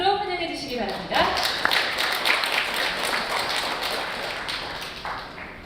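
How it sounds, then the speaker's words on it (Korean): Audience clapping and applause at a Korean sleep-medicine health talk on sleep apnea, welcoming a speaker to the stage; steady, dense clapping from a crowd fills the whole stretch after a brief start. "여러분 큰 박수로 환영해 주시기 바랍니다"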